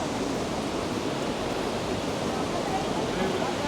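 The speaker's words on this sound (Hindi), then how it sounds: "बहुत ही तीव्र प्रवाह जिसका शोर अभी ऊपर तक आ रहा है, काफ़ी तेज शोर है।" Loud, steady roar of the fast-flowing Saraswati river at Mana village, a dense unbroken rush of water that fills the whole stretch without a pause.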